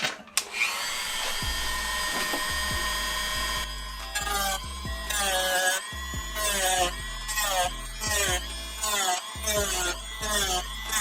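A Dremel rotary tool fitted with an EZ Lock cutting wheel screams at high speed, cutting roll cage parts for an Axial SCX6 1/6 scale RC crawler build in repeated loud bursts that rise and fall in pitch, with brief pauses between cuts.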